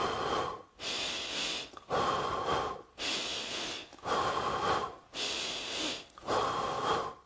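Close, audible breaths in a steady rhythm while walking, each inhale and exhale lasting about a second with short gaps between, timed to footfalls and clearly heard without talk.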